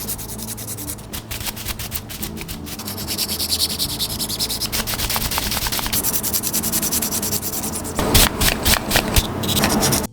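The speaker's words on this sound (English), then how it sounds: "Now that we have them sanded," Sanding parts for a custom Marvel Legends Gambit action figure gives a close, dense rasping scrape with rapid back-and-forth strokes, continuous for about ten seconds and growing slightly rougher toward the end.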